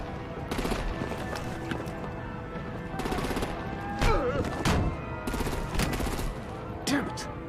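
Gunfire and artillery in the Batman Telltale Series video game, with repeated bursts of rapid shots and heavy booms in a steady chaotic barrage that continues throughout.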